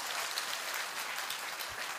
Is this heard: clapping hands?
yes